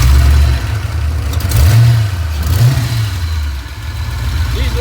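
A 1989 Ford Foxbody Mustang with small exhaust leaks revs up loudly nearby, its engine rising and falling in a couple of throttle blips over a steady rumbling idle.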